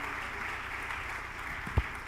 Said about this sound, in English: Please, a warmer round of applause for this woman of excellence.